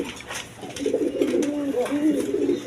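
Cooing from a pair of high-flying Giribaz pigeons kept with two chicks, soft rolling coos repeating close by over a steady background hum.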